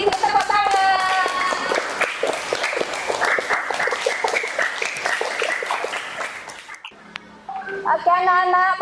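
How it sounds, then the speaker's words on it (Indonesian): Students clap for a classmate's presentation, a dense burst of classroom applause lasting several seconds under a teacher's voice, ending abruptly before children's voices and a brief chime-like melody. "Tepuk tangan."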